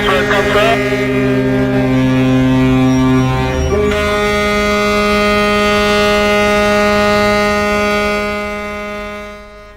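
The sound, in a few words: ships' horns hooting at port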